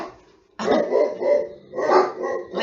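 Pet dogs indoors erupt in loud barking at something outside, a brief quiet followed by a run of close, repeated barks with a growly edge.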